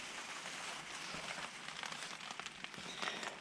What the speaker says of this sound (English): It's exhausting to constantly be dealing with this rain.